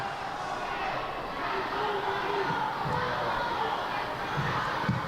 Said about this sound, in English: That's got the crowd going.